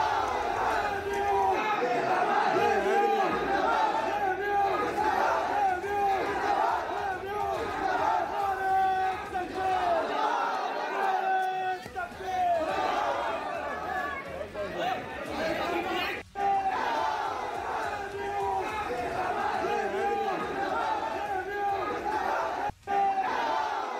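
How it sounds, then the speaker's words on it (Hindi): A large crowd chants religious slogans such as Allahu Akbar in loud, rhythmic unison at a Republic Day event under the tricolour, with NCC cadets present; the massed voices continue steadily throughout, with a brief dip partway. "नारे चल रहे हैं अल्लाह अकबर"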